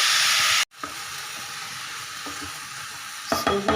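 A vegetable dish cooks slowly over a low flame, sizzling and frying in the pan. A brief drop is followed by steady sizzle, and a few scraping stirs come near the end.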